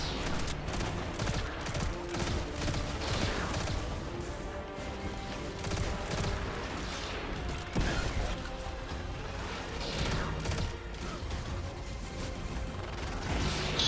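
Scattered enemy gunfire in the video game Destiny: Edge of Fate, bursts of shots and mechanical clatter at moderate level, fairly distant, with no talk.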